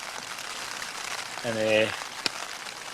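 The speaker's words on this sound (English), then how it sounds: "2 minutes later it is pelting torrential rain." Heavy torrential rain pelting a tent while wild camping beside a loch in Scotland, a steady soft hiss of drops on fabric with a brief hum and a single sharp tap midway and a voice speaking briefly.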